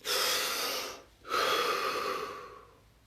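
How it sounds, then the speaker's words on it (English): A person takes a deep breath during a guided session: one long, close, breathy inhale, a short pause, then a long exhale that slowly fades, with no talking. "Deep breath."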